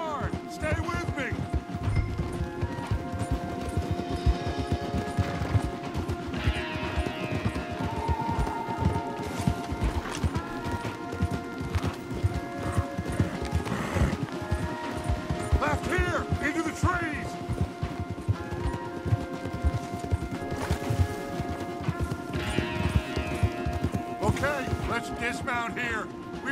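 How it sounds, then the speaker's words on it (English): Horses galloping hard across terrain in Red Dead Redemption 2, a continuous rapid clatter of hooves under game music and effects for the whole stretch, loud and close. "We need to ride hard. Stay with me."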